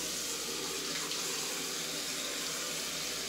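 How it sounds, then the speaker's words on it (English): A sink faucet runs in a steady, hissing stream as a face is washed under it, close and continuous with no speech. "let me wash my face"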